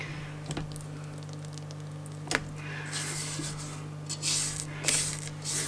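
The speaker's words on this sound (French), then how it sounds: "on n'hésite pas entre deux à soulever et à racler, vous voyez. Ça fait des amas, donc on racle bien" Coffee cake batter is scraped and folded in a bowl with a spatula, making soft, close rubbing and squishing strokes over a faint steady hum.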